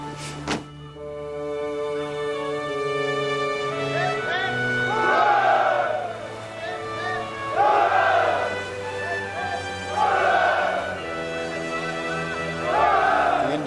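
A crowd of sailors in a 1999 period naval drama cheers in four rhythmic, swelling roars of hurrahs, each rising and fading over a steady low background hum.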